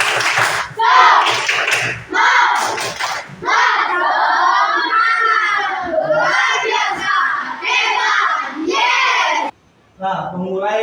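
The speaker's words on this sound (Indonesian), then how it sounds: "Tepuk tangan dulu untuk Cinta." A class of children in a school lesson chants loudly together in rhythmic bursts, with clapping woven into the shouting and a brief pause near the end.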